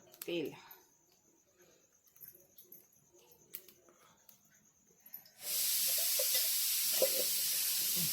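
Onion dropped into hot oil, bursting into a loud continuous sizzle halfway through after a quieter stretch of talk and kitchen clatter.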